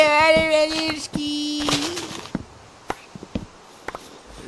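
Minecraft birds give a pair of clear, tonal coos up close, then fall silent as a string of light, sparse footsteps clicks along.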